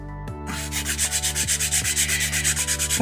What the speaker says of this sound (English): start a filing routine